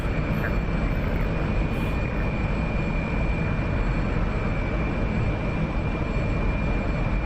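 An F-117 Nighthawk jet flies in the DCS flight simulator, giving off a steady, loud, broadband engine roar that holds evenly from start to finish with no breaks.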